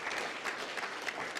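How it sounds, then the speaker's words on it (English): Brief burst of audience clapping at a fundraising dinner, a dense patter of many hands heard from a moderate distance for just over a second, with no voices over it. "clap, please"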